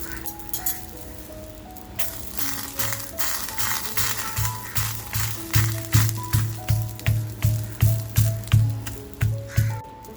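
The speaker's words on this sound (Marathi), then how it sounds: "कांदा मात्र आपल्याला छान असा भाजून घेऊया" Onion roasts in a pan for a spicy village-style black-masala crab curry, giving a steady loud sizzle. Rhythmic clinks and scrapes of a utensil repeat through it, and no voice is heard.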